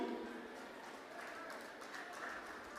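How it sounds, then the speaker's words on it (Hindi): A crowd at Rahul Gandhi's political rally in Sonipat, Haryana claps throughout a speech, producing a steady, fairly faint patter of applause that continues without pause. "ताली मत बजाओ अभी"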